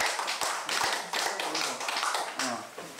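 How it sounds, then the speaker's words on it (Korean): People clap their hands on a TV documentary filming set, a quick run of sharp, close claps in an uneven rhythm, with some talking mixed in. "박수 한번 치고 하자 또"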